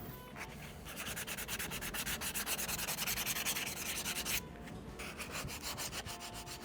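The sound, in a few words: sanding a deer antler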